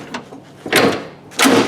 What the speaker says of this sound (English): See if I can get the door open.